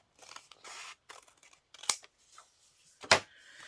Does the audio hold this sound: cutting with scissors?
yes